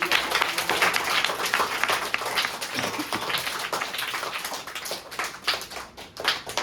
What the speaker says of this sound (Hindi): तो सबसे पहले बहुत जोरदार तालियों से